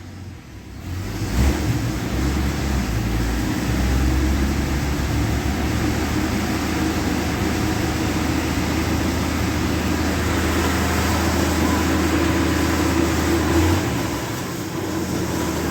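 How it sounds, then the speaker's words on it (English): A 1976 Dodge D100 pickup engine idles in gear as the truck sits after a rear axle swap, producing a steady, loud, continuous drone with a low hum that holds evenly for about twelve seconds before easing off. "I'm just going to put it in gear and let it run a bit."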